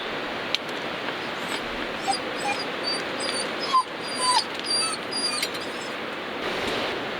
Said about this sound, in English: What do you want, dog?